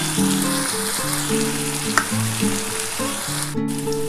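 Potato pieces and ivy gourd (kundru) fry in a pan, giving a steady, loud sizzle that runs throughout under background music, with no talking.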